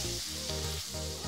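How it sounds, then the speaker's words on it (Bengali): Dried fish (shutki) frying in a pan with garlic and onion gives a steady, close sizzle that runs unbroken throughout, with a low tonal hum underneath. "দেখতে পাচ্ছেন এটা ভাজা ভাজা হয়ে গেছে"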